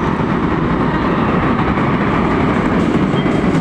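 An LRT train at Balintawak Station in Manila rolls past close by, a loud, continuous rumble and rattle of wheels on rails with no break.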